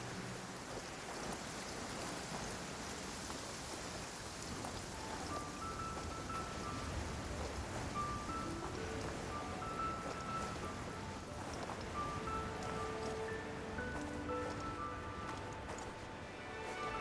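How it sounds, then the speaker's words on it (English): Steady, heavy rain from a downpour in the video game Genshin Impact pours as a dense, even hiss for the whole stretch, with faint musical tones drifting quietly underneath. "Taking a stroll in the middle of a downpour certainly rouses the spirit."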